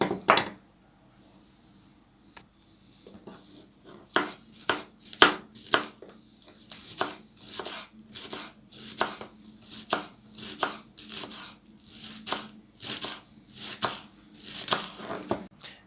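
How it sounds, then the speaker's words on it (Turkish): A knife taps rapidly on a cutting board chopping spring onions, sparse at first and then settling into a steady, close rhythm of chopping strokes with no talking. "taze soğanımı e, küçük küçük doğrayacağım ve tabağıma alacağım"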